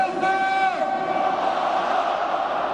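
Galatasaray supporters in a stadium arena chant for Umut Bulut during a championship trophy ceremony, a loud sustained crowd roar with a tonal chant rising above it.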